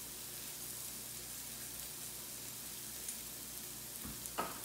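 Cumin and garlic salt fry in a pan with a soft, even sizzle that hisses steadily at close range, broken by a couple of small clinks near the end.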